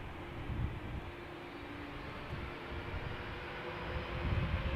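JetBlue airliner taking off at Amsterdam Schiphol Airport, a steady broadband jet roar with low rumble, sustained and moderately loud throughout with no talk.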